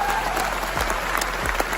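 An audience at a motivational speech event in Jaipur applauds loudly, a dense, continuous patter of many hands clapping close by.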